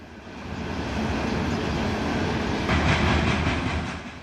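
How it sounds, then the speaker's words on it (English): A loaded coal freight train rolls through mountain country at Glenwood Springs, Colorado, a steady close rumble of heavy wagons with faint clickety-clack, alone with no voices. "coal train moving through Glenwood Springs, Colorado"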